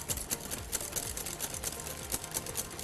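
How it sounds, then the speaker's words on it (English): An electric mixer whisks cream and Greek yogurt into a filling for a fruit-filled choux wreath, giving a steady close buzzing whir with quick rhythmic pulses of the beaters and no speech. "Whisking again, and then your filling just about ready."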